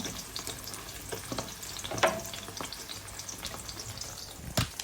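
A basil omelette fries in a pan, a soft steady sizzle punctuated by occasional sharp pops and utensil taps, no voices.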